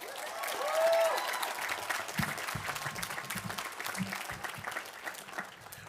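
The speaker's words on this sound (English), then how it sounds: "And I think that deserves a round of applause." A large crowd applauds graduates at a De Anza College commencement, sustained clapping swelling early and then holding steady, spread wide across a big space, with faint voices mixed underneath.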